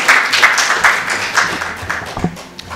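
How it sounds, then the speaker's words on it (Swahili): An audience at a Tanzanian public-service address claps in a steady, dense burst of applause, loud and close, with scattered individual claps standing out and no talk over it. "Kama nimesema kweli piga makofi pia."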